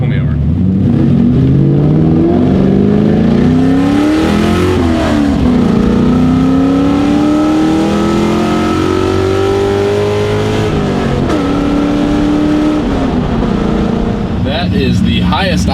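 A Mustang engine revs loudly up to 6,400 RPM, its pitch climbing in several long sweeps with brief dips between pulls, roaring close and continuous throughout.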